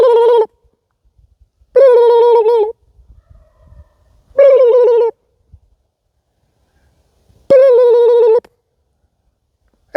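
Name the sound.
wild turkeys gobbling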